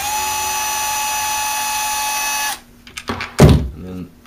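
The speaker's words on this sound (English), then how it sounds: "You do your spark plug cap, unscrew these two screws." A powered driver whines steadily while unscrewing the cover screws on an Echo SRM 225 string trimmer, then stops, followed by a few close clunks of parts and brief talking.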